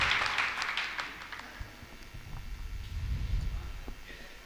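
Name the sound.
audience applause at a mushaira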